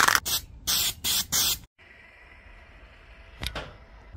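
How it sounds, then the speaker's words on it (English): Spray can of weld-through primer hissing onto a car body panel in four short, loud bursts, followed by quieter ambient hiss and a brief clack near the end. "Throw some weld through primer on it."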